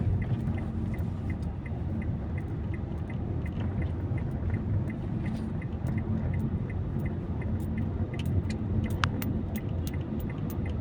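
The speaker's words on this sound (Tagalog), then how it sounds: "Ayan na po ang traffic na agad." Morning road traffic in Quezon City heading toward Quezon Avenue from Fairview, a steady low rumble of passing vehicles with faint higher ticks, heard at a distance and without voices.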